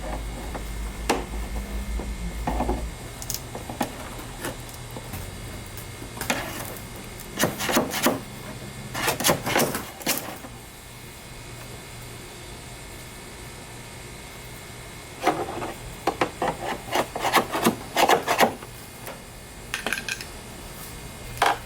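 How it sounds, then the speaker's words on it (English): Chisel scraping old glue off a Sea-Doo XP Limited hood, heard as close bursts of rough scraping strokes separated by quiet stretches, with no talk. "I'm going to go ahead and try to use a chisel, and this is probably going to be really difficult to get off"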